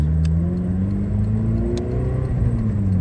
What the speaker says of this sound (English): I can rev a little higher now